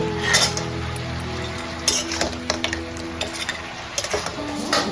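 Fried lentil dumplings go into a simmering curry, with a spoon scraping and clinking against the pot over a soft bubbling sizzle, in brief irregular taps close by.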